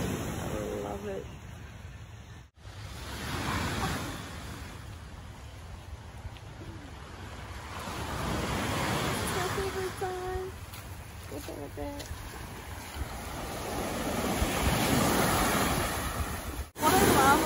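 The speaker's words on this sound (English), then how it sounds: "it's really windy" Strong gusting wind buffets the microphone at a seashore on Indonesia's uninhabited Thousand Islands, with surf roaring underneath and a few faint, brief voices in the background.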